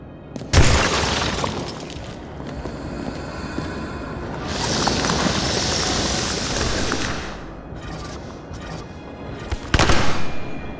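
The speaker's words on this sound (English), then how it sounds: "A shootout started." Gunfire and crashing impacts from a shootout in the video game Nobody Wants to Die, with a sharp loud burst at the start, a sustained hissing, rattling stretch in the middle and another loud burst near the end.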